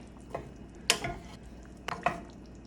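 Noodles being stirred in a pot with a knob of butter: a few scraping, clattering utensil strokes against the pot, close and fairly quiet, with brief pauses between.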